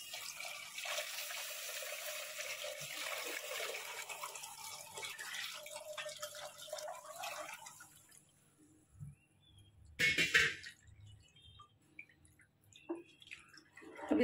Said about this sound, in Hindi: दूध को हम लोग छान के डालेंगे इसमें।